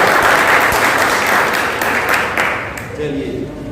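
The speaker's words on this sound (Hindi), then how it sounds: "तालियां बजाइए भाई" Dense clapping from students at a school road safety quiz competition, steady and fairly loud before thinning out near the end.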